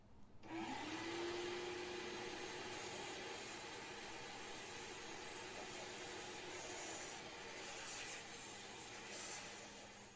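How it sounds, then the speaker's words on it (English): A vacuum cleaner runs steadily and loudly throughout, used to clean around an engine oil filter housing on a 3.6 Pentastar engine, with a brief rising whine as the motor spins up at the start. "I thought, can I just vacuum it while it's there and make sure nothing falls in?"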